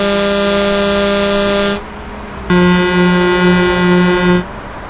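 A Mercedes truck's air horn gives two loud, close blasts, a long steady tone and then a second slightly wavering one after a short pause, with no other sound competing.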